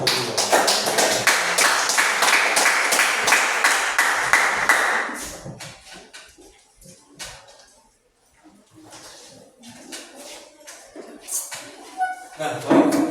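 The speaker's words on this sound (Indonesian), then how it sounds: "Kalau begitu berikan aplaus kepada kelompok" Students in a classroom applaud a group after its presentation: loud, dense clapping for about five seconds that then fades away, followed by scattered talking.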